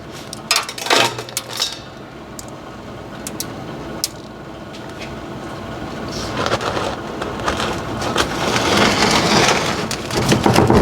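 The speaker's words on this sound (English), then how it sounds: "we start in the center with a square scoop like this, go all the way down to the bottom of the pan" A square scoop is pushed down through a sample to the bottom of a pan, making sharp scraping clicks and gritty crunching that grow louder and denser toward the end.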